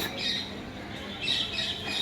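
Pigeons being handled at a high-flying pigeon tournament loft give faint squawks and chirps over a steady background hiss, with no clear speech.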